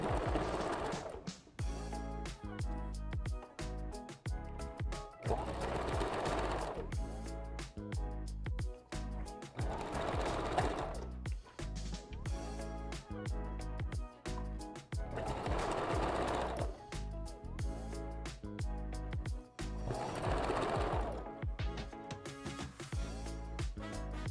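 A sewing machine stitching and backstitching a red ombre closure wig runs steadily and close by, with its rapid needle chatter swelling and easing in regular waves throughout.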